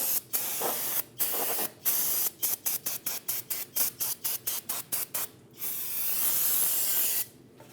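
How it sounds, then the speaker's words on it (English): A can of parts cleaner sprays the parking brake area of a 2010-2015 BMW X1 xDrive. A long hiss is followed by a quick run of short, evenly spaced bursts, then another sustained spray, all close and loud. "I'm going to use some parts cleaner and clean the area."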